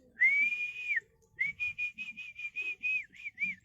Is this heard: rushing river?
no